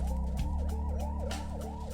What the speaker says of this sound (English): With the siren?